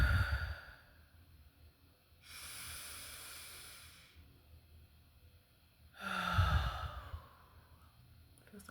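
Slow, deep breaths: two long, steady airy inhale-exhale swells, fairly close and soft, with no talking.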